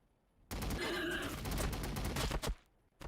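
Gunfire in the video game Warhammer Battlesector: after a brief quiet, a loud fusillade of overlapping shots crashes in and rattles on for about two seconds, then breaks off into a few scattered final bursts.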